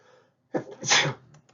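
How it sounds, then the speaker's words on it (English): A single sharp sneeze, close and fairly loud, with a quick breathy intake just before the burst and a faint rustle afterward. "permanently recorded some sneezes"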